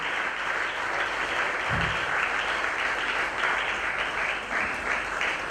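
Audience applause fills a room at a book launch for Dr. Josis Dezeme's book La Ligne Rouge, a steady, dense wash of clapping that holds through the whole stretch with no voices on top.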